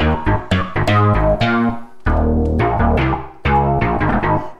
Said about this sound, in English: So the bass sounds like this.